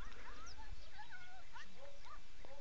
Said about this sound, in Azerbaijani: Hara gəlsən, itlərin səsinə bax.